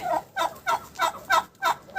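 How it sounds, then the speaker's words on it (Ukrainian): A red turkey gobbles close by during winter grazing, a fast run of about seven rhythmic, warbling bursts with short gaps between them. "І з ними вже червоний індик."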